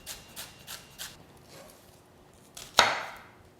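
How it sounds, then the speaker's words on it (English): Knife chopping carrot, celery and onion on a board, four quick rhythmic cuts followed by a pause, then a sharper louder chop with a brief scraping tail, close and fairly quiet. "The first thing you have to do is chop the carrot, celery, and onion"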